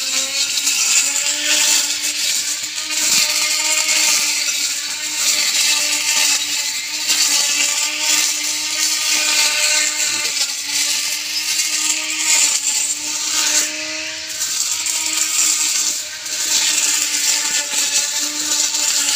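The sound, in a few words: electric grass cutter with steel blade running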